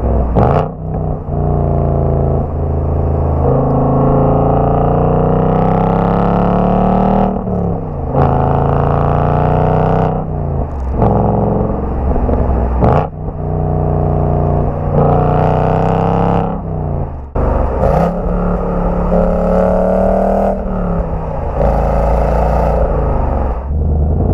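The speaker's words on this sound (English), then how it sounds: "it is so easy to drive this car going through these gears" A 2020 Ford Mustang GT Premium V8 accelerates repeatedly through its gears, engine pitch rising loudly then dropping at each shift, heard from inside the car with a steady roaring drone.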